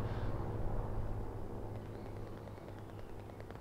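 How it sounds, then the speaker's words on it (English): Strafing-run gunfire in the Hell Let Loose war game: a loud, dense roar of rumbling fire and blasts that holds steady for several seconds before easing off slightly toward the end. "it's the sound of the strafing run"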